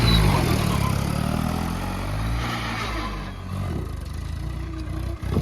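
A tractor engine revs loudly and rumbles low as its front is lifted, a heavy, close drone with clatter that eases slightly midway and stays strong throughout.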